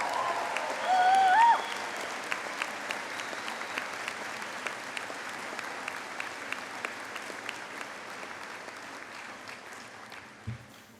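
A commencement crowd at Denison University applauds faculty and staff, steady dense clapping with a brief louder swell near the start, sustained and even for the whole stretch before tapering slightly at the end.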